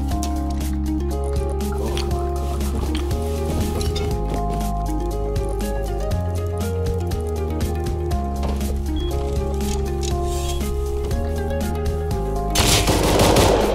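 Gunfire inside the survival video game Rust, with rapid bursts and scattered shots layered over dense game sounds and music, loud throughout and swelling into a noisy wash near the end.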